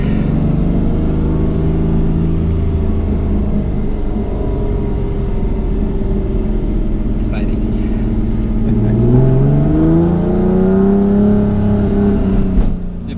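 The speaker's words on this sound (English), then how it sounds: "Exhaust by the sound of it." A loud self-built Porsche 997 GT3 RS drones steadily nearby at the Nürburgring, with the exhaust note rising as it revs partway through; voices talk faintly underneath.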